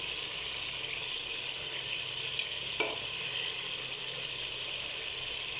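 Chickpea pulao with black pepper frying in a pot gives a steady, even sizzle throughout, broken by a couple of brief clicks and scrapes as a spoon stirs it through.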